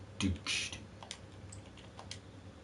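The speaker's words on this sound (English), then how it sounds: "Just typing letters." Typing on a computer keyboard during a Minecraft survival session: a few scattered key clicks, with one heavier burst near the start, then lighter isolated taps over a low steady hum.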